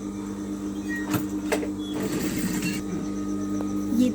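A sewing machine runs steadily as it stitches a blouse seam, a continuous close mechanical hum with a few brief clicks and taps over it, no talking.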